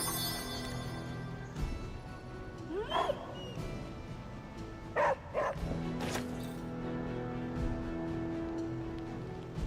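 A dog barking in the video game Marvel's Midnight Suns, a few short barks and yips spread over a quiet ambient game background.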